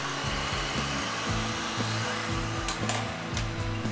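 A heat gun blows a steady, loud airy rush while warming vinyl wrap on a car, with a pulsing low hum underneath and a few faint ticks near the end.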